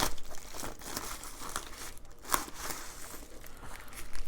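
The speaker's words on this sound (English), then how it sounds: "Tear along the perforated lines." Paper crinkles and tears along perforated lines in a steady run of short rips at close range, with one sharper snap partway through and no voices.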